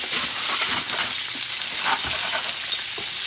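Pork loin sizzling on a cast iron griddle, a loud, close, dense crackling hiss running steadily throughout with small bursts of spattering.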